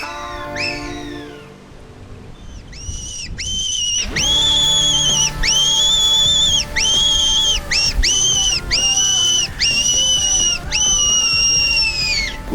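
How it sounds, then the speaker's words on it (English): Hunters blow a fox whistle in the Australian bush, giving repeated shrill, wavering squeals in short bursts, loud and close, following a quieter stretch at the start. "We whistled long and hard, but I'm afraid that was the last fox that showed any interest to the whistle"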